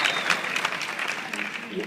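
An audience gives a round of applause during a speech at an address event, steady clapping filling the room at moderate loudness while a voice carries over it.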